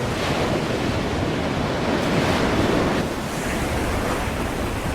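Ocean waves surge and wash continuously in Call of Cthulhu: Dark Corners of the Earth, a steady, loud roar of surf with wind, swelling slightly midway and never letting up.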